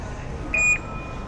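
A metro entry gate gives a single short electronic beep after a phone card is tapped, clear over constant station background noise.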